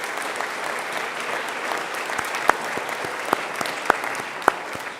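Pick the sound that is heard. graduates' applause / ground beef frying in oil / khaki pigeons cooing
graduates' applause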